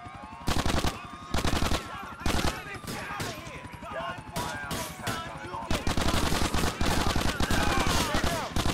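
Sustained gunfire in GTA IV The Ballad of Gay Tony, loud rapid bursts of shots and automatic fire repeating almost without pause, with brief gaps between volleys and faint tonal sounds in the background.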